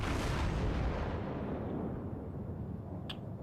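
In a naval video game, the Tier IV American battleship Wyoming fires its main guns in a heavy, sustained boom that rolls and fades over a few seconds, with a faint sharp click near the end.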